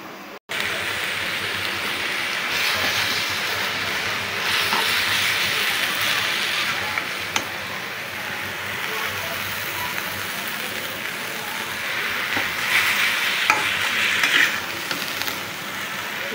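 A pumpkin-leaf and fermented dried fish (chepa shutki) mash cooks in oil over low heat in a covered pan, giving a soft, continuous sizzling hiss with occasional faint crackles, steady throughout.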